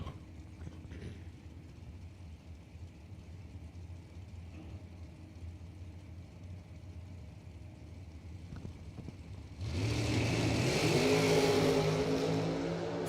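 The engine of an undercover dragster at a drag race rumbles at low level across the track for a while, then a loud roaring launch surges in close and stays strong to the end.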